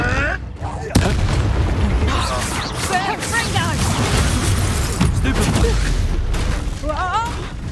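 Confringo explosive spell cast in Hogwarts Legacy, loud booming blasts with crackling game effects and a dense, sustained roar of combat sound.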